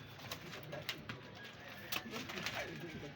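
Pigeons cooing, soft and fairly close, with sharp clicks and flutters and someone talking over them.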